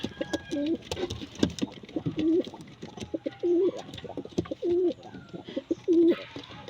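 Pigeons coo repeatedly at close range, several soft throaty calls spaced about a second apart, mixed with scattered clicks, rustles and light chirps.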